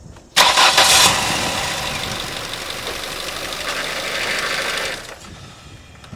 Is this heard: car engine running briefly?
yes